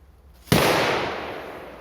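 An FP3 firecracker goes off with one sharp, loud bang that cuts through a quiet outdoor background, followed by a long, fading rumble.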